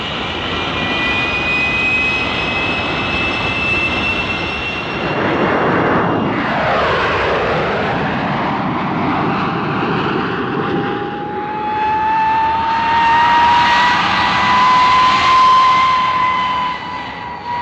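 Italian P-1067 jet fighter flying past, a loud continuous jet roar that swells and shifts pitch as it passes, with a rising whine near the end.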